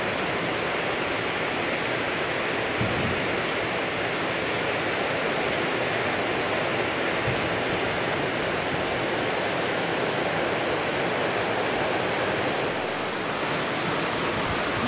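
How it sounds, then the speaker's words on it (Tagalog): Heavy rain pours down continuously at a farmhouse, a dense, loud, even roar of water that holds steady without a break. "Malakas na naman ang ulan."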